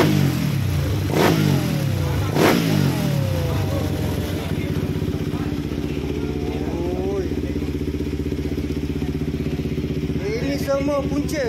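A Suzuki motorcycle engine idles with a steady low rumble, giving a couple of sharp revs early on, while voices talk over it.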